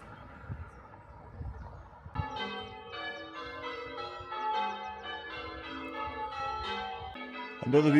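Church bells in the village of Kewstoke ring out after a quiet start, overlapping tolling strokes ringing on steadily, moderately distant, with no talk.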